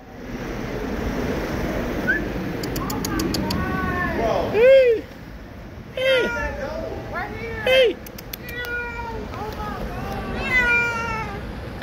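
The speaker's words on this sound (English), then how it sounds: "Oh my god, it's a cat." A cat meowing repeatedly in short, bending calls, close by, among people talking and excited voices, with bird chirps and outdoor background noise.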